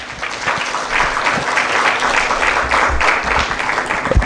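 Guests at a Kenyan public finance and budget event applaud. Loud, sustained clapping from a crowd fills the room the whole time, with a few low thumps near the end.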